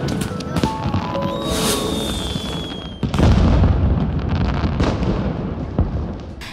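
Fireworks launch over the seaside in an anime scene, with a rising whistle before a deep boom, then a few scattered pops under a low rumble.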